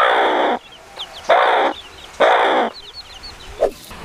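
A Kinni kozhi hen with newly hatched chicks clucks loudly and close in three long harsh bursts, with faint high chick peeps and a short squawk in between.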